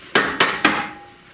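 A metal inertia-brake trailer coupler adapter being knocked into place: three sharp, ringing metallic impacts at a steady rhythm, close and loud, each decaying quickly with a faint lingering ring afterward.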